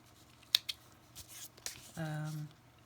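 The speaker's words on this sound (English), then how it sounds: "Let me get my thread trimmers." Thread trimmers snip a fabric tag during handmade tag making: one sharp close cut, a second lighter snip just after, then soft handling rustles and a brief low hum near the end. Quiet overall.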